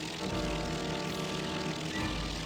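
Keystone B-3A propeller bombers flying in formation toward target points, a steady, loud droning engine roar that holds constant throughout with no voices.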